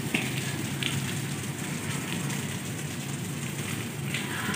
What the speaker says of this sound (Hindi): रात से मुसलसल बारिश हो रही थी बहुत ज़्यादा।